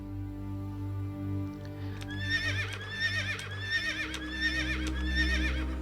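A horse whinnies in the Roman city-builder video game Pax Augusta, a repeated, clear neigh over a low steady game background hum, with faint hoof clops.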